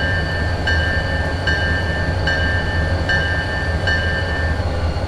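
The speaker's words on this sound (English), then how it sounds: "It's still coming under that bridge. Okay, there's the very end of the train." A long freight train in Train Sim World 2021, three F45 locomotives hauling over the Cascade Mountains: loud, steady rumble of cars rolling past with regular wheel clacks at even intervals and a sustained metallic tone, no talking.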